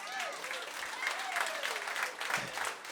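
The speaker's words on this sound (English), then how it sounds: "Round of applause if you're a family in the audience." A comedy club audience applauds a family seated in the front row during a stand-up show. Steady, sustained clapping fills the room with no talking over it.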